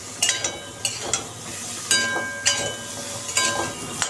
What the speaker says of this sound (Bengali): দিয়ে এবার নেড়ে দেব।